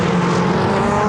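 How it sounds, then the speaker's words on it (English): A rallycross car at the 2019 World Rallycross of Norway qualifying roars past on part throttle, its loud, close engine note rough and uneven with a flat, stuttering misfire quality. "when he's on part throttle, the car sounds like it's misfiring"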